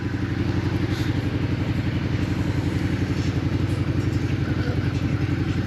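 A motorcycle engine runs steadily close by, a low, even mechanical thrum with a faint clatter and no change in pace, heard alone with no talking.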